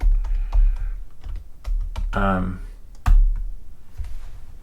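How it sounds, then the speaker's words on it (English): A password being typed on a computer keyboard, a handful of quick key clicks scattered through the clip, heard close beneath a person talking. "Type in your password."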